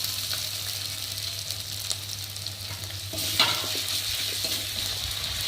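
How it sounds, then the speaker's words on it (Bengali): Garlic, ginger and cumin paste frying in oil in a pan for a meat dish, a steady close sizzle with occasional stirring scrapes and a louder burst partway through, with no voices. "একটু ভালো করে ভেজে নেবো।"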